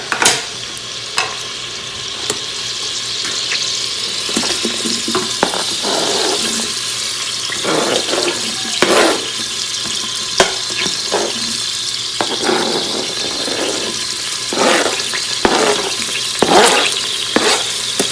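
Onions, garlic and peppers sauté in an Instant Pot with a continuous sizzle, broken up by scraping, stirring strokes and clatter from the pot, with no one talking.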